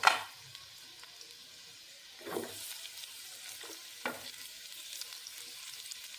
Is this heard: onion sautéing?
yes